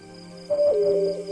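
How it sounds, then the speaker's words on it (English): An owl hoots in the Proteus video game, a clear, close tonal call that starts midway and holds steady for under a second over a quiet, humming ambient background. "Is that supposed to be the owl hooting?"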